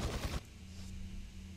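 A short, loud burst of rapid gunfire in Resident Evil 4 that cuts off abruptly, leaving a low hum of quiet game ambience.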